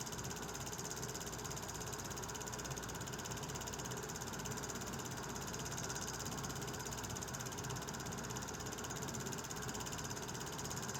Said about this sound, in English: the engine's making a crossing of the River Road over to the industrial siding